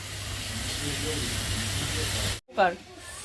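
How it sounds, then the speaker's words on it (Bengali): Water splashed into a hot pan of lightly fried cumin paste: a steady loud sizzle cuts out abruptly, then a sharp burst of hissing steam follows and fades. "একটু ভাজা ভাজা করে জল দেবো সেদ্ধ করার জন্য"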